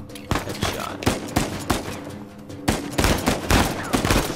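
Repeated gunfire from the video game Uncharted 4, a rapid series of sharp, loud shots in quick bursts with brief gaps between, close and dominating throughout.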